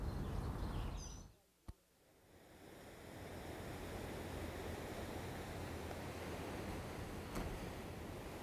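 Steady broadband wash of ocean surf at the shore, rolling on continuously after a brief dip near the start, fairly loud and enveloping with no voices.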